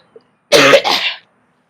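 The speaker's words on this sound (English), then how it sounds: "I'm coughing my heart out, man." A single harsh, rasping cough after smoking bursts out close up, followed by a rougher second expulsion, then quiet.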